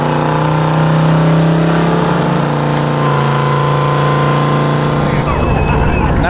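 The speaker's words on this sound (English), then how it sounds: "Somebody's doing a burnout over here already" Car doing a burnout at Pueblo Motorsports Park drag strip: a loud, steady engine drone with a held high tone that breaks into rougher, louder revving near the end, with voices in the background.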